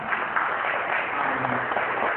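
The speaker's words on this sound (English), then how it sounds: "Give them a round of applause." An audience at a peace prize ceremony for laureates in a multipurpose hall applauds steadily, a dense, even wash of clapping with faint voices underneath.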